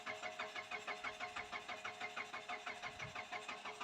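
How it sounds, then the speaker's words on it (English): A Mitsubishi car engine cranks steadily without catching, the starter motor churning in a regular rapid rhythm for several seconds, fairly faint and with no voices over it. "We may as well crank it a bit longer."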